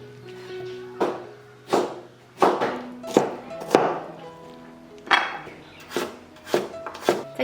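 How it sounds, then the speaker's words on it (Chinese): A knife chops pineapple into small pieces on a wooden board, about a dozen sharp, close thunks in an uneven rhythm, each ringing briefly, with no talking. "然后我们再来把菠萝切成小块"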